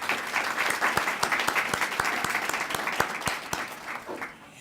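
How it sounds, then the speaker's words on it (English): An audience at a student of the month recognition event claps for several seconds, with distinct individual claps standing out sharply near the microphone before the applause thins and fades at the end. "if we give them a round of applause"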